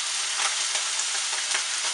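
A whole fish sears in a hot pan, filling the moment with a loud, continuous sizzle and faint crackling pops, with no voices.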